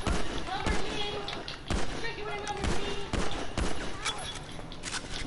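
Repeated gunfire bursts in the video game GTA 5, sharp impulsive shots recurring about once a second over a busy game soundtrack, with voices talking underneath.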